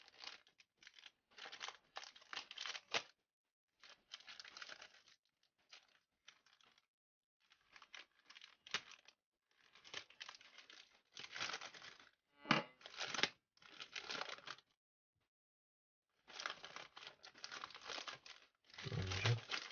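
Small plastic parcel shipped from China is torn and crinkled open up close, quiet bursts of rustling and crackling separated by short pauses.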